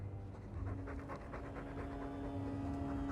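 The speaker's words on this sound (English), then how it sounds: "All that noisy dog breath, day in, day out." A dog pants loudly and rhythmically in Dragon Age 2, quick wet breaths repeating steadily and close up, with faint game ambience underneath.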